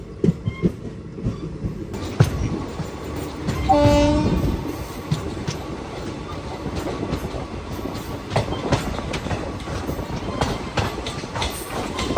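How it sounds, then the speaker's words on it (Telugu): Mangalore–Tambaram Express passing at Palakkad junction, a steady rumble of coaches rolling by with a horn blast early on and continuous rail clatter throughout. "ఇప్పుడు వెళ్ళింది కదా ఆ ట్రైను, తాంబరం అయితే వెళ్తుంది మ్యాంగ్లూర్ నుంచి."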